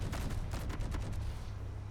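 A rapid string of close, loud gunfire bursts from an anti-aircraft turret in the game Space Engineers, steady pounding shots running nearly two seconds without pause.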